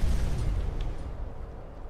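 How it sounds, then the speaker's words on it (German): A low, rumbling explosion in the video game Skyrim Enderal that decays slowly over two seconds, a heavy muffled boom with a faint pop partway through. "Da war wohl eine Explosion."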